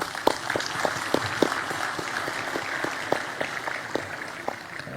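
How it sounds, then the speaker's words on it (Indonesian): Scattered audience clapping at a school ceremony honoring a police general's promotion, a light, uneven patter of hands with individual claps standing out, moderately distant. "Tepuk tangan."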